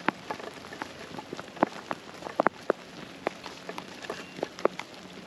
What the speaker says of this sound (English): starts to rain a little bit